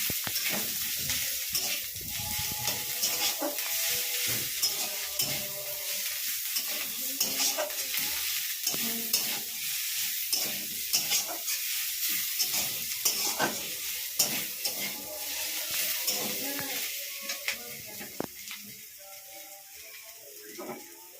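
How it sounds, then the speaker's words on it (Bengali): Onion pieces and ginger-garlic paste fry for a jackfruit curry, a continuous close sizzle with frequent clattering stirs and scrapes of a spatula against the pan throughout. "এটাকে হালকাভাবে ফ্রাই করতে হবে। এরপর আমি দিয়ে দিচ্ছি 2 টিস্পুন আদা রসুনের পেস্ট।"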